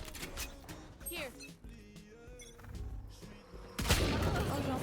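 Gunfire in a tactical shooter video game, a few sharp shots and a louder burst near the end over busy in-game effects and tones, while a player speaks now and then.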